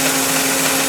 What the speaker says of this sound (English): A little clicking noise you hear is the 2kc, and that's the vane sliding back and forth.